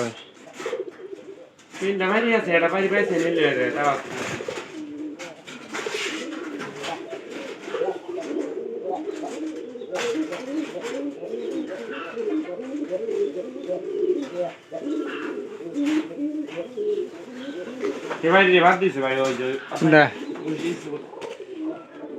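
Pigeons coo in low, throaty murmurs throughout, with people talking nearby over the birds.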